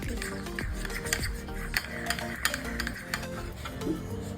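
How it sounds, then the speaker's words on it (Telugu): Peri peri sauce and mayonnaise are stirred together in a bowl, a spoon scraping and clinking in quick repeated strokes, fairly close and soft, with faint background sound and no talk. "పెరి పెరి ఇంకా సాస్ ఇంకా మయోనైజ్ కలిపేస్తున్నాం."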